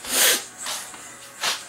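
Sneezing in a bathroom: a few sharp bursty sneezes, close and loud, with a brief quieter gap between them.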